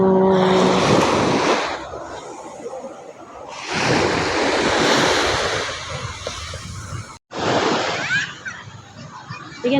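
Surf breaking and washing at a beach in Bunbon, Cagayan de Oro City, with bursts of loud broadband roar, a brief dropout near the end, and wind buffeting the microphone.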